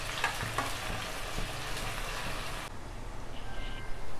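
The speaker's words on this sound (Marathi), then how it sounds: "आपण मस्त असा ब्राऊन कलर येईल तोपर्यंत कांदा तळून घ्यायचा।" Sliced onions fry in hot oil for chicken biryani, a continuous close sizzle with a few stirring knocks early on, growing slightly softer partway through; no voices.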